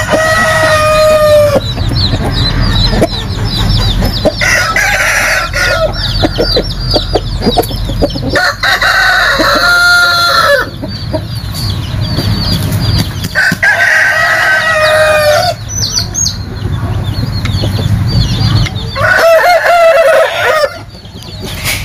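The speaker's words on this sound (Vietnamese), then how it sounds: "Còn bên đây là gà mình mới vô nha." Fighting roosters at a farm in Vung Tau, Vietnam, crowing again and again amid steady clucking from many birds, loud and close throughout.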